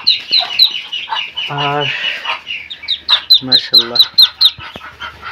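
Young white Chinese ducklings on a duck farm give rapid high-pitched peeps in quick repeated bursts, close and fairly loud, while a person speaks briefly in between.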